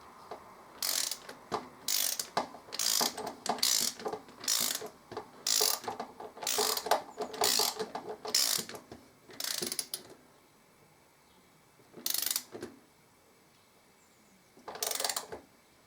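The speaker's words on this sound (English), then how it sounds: "Right, I'll turn this torque wrench up to 24." Torque wrench ratcheting during a trike service: repeated short bursts of clicking, close and fairly quiet, about a dozen runs with brief pauses and longer gaps toward the end, with no voices.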